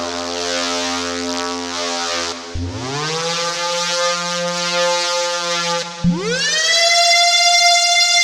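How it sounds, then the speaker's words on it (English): A loud synthesized siren preset for music production, with rising, swelling harmonic tones that sweep upward twice, sustained and droning without any voices. "This siren would be epic to start off your track."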